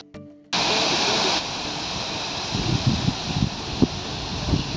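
A waterfall near Ooty sends out a continuous rushing roar of falling water that starts abruptly, with a few soft rustles and bumps nearby.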